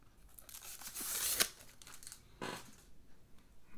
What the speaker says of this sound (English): I'll go ahead and peel this